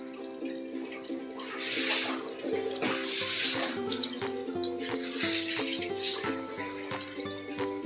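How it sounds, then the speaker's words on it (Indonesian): Water is poured into a pot while broccoli is being cooked, a continuous splashing rush that holds steady over several seconds, with melodic background music playing underneath. "Masukkan air."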